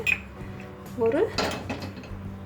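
A heavy metal pressure cooker clanks down onto a stove, with a couple of softer clinks of metal and utensils around it.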